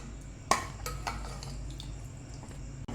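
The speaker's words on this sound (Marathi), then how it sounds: "बघा, आता याला छान मिक्स करून घेऊ" A spoon stirs fresh red chili thecha mixed with lemon in a bowl, giving one sharp clink followed by a few lighter scraping taps against the dish, close up and without talk.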